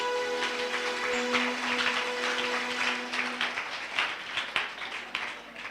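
A church congregation claps in praise, with scattered, uneven applause that carries on for several seconds at moderate volume, with a sustained tone lingering underneath.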